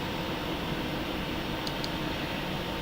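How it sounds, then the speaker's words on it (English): A room air conditioner running steadily, a loud constant broadband hiss and hum filling the room without pause, with a couple of faint high ticks partway through and no talk. "you guys are definitely hearing that air conditioner"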